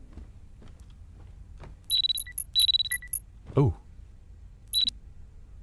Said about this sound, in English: Oh, it's my alarm.